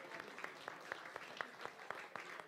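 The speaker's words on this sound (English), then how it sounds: "Give him a round of applause." A small audience at a magic show claps for a volunteer called up on stage, individual claps distinct and spaced over a faint room murmur, fairly quiet and brief.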